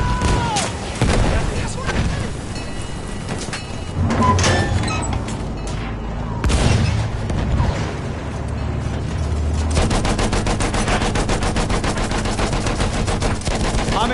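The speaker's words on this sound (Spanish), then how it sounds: "ametralladora enemiga!" An enemy machine gun fires in a console shooter game amid loud battle noise and explosions, ending in a sustained rapid automatic burst near the end, while a voice speaks over the mix.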